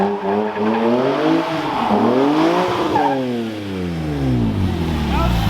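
A car engine revs up and down repeatedly, rising and falling in pitch with a loud, close roar and tire noise, as in drifting.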